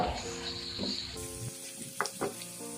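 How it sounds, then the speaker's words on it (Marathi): Whole spices, black pepper, cloves, cinnamon pieces, green cardamom and bay leaves, sautéing in a pan for katachi amti, a soft close sizzle with a few brief clinks of stirring, no voices. "दोन काळी मिरी दोन लवंग दोन दालचिनीचे तुकडे आणि दोन पाने तमालपत्र घालून छान परतून घ्या"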